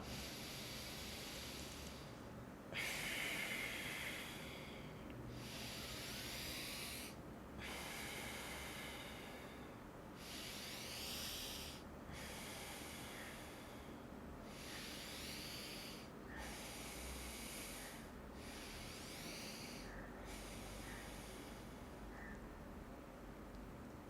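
Close, audible nasal breaths during an alternate-nostril breathing exercise (nadi shodhana) repeat in a steady rhythm, each a soft airy rush through one nostril, separated by brief pauses.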